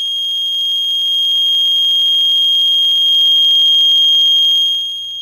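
An active piezo electronic buzzer powered at 12 volts emits a loud, piercing continuous tone with no breaks, close and alone, rising slightly in level before dropping off near the end.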